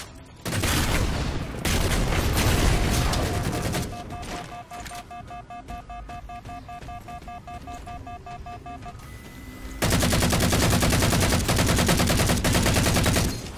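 Halo 4 multiplayer gunfire rattles in dense automatic bursts, loud and close, with a brief lull of sparser shots and in-game tones mid-way before heavy firing resumes.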